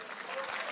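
Audience applause at a talk on microbiome products: a brief, dense wash of clapping from a crowd, steady and fairly loud throughout.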